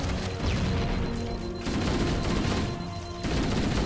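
Rapid weapon fire rattles in the Halo (2001) video game, sustained bursts of shots separated by brief pauses, loud and close, with no voices.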